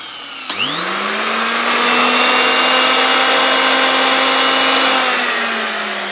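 A Makita electric planer, just repaired after its carbon brushes were cleaned without new parts, switches on and spins up into a loud, steady high motor whine that holds for about six seconds, easing slightly toward the end.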